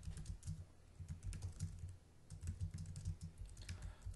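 Fast, irregular typing on a computer keyboard while entering brake pad and rotor checks into auto repair software, a close run of soft clicks in short bursts with brief pauses and no speech.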